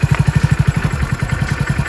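A motorcycle engine chugs close by in a loud, rapid, regular thumping idle that stays steady throughout.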